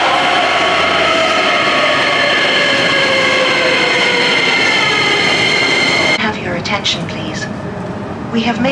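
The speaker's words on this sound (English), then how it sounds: "We have made a stop because another train is passing." Another train rushes past a stopped train in Japan, a loud, steady roar of wheels and rail noise filling most of the clip before cutting down to a quieter rumble near the end.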